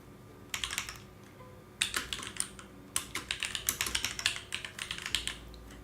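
Bursts of rapid typing on a computer keyboard while writing Python code, close and distinct, in three runs of dense clicking separated by short pauses.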